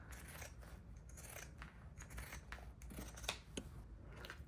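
Sharp scissors snip into the fabric seam allowance around a sewn bag flap's curved corner, a quick series of small, close, quiet cuts with soft metallic clicks.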